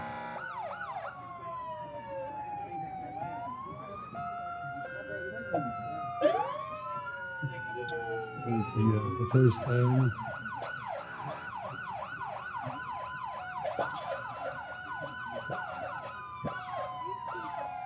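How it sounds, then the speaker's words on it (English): Several sirens wail and sweep up and down as vehicles pass close by in a St. Patrick's Day parade, loud and overlapping, with a low engine rumble and brief talk. "we get the finest sirens in the state going by soon"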